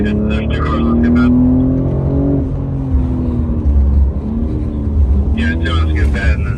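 BMW cars accelerating on the track at a BMW Performance Center driving school, engine tones climbing and sliding in pitch at close range, with voices talking briefly at the start and again near the end.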